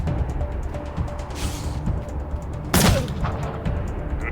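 A single heavy gunshot blast in the Wasteland 3 video game, a loud sharp crack with a brief decaying tail, set against steady dense battle noise and faint rapid ticking.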